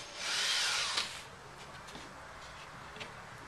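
A power drill bores into an outdoor wooden footstool in a short burst of whirring and grinding, followed by quiet scraping and light handling noises.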